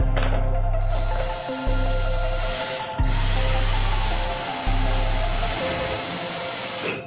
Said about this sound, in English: you just have to kind of put the screw in and then hope you get it right into the joist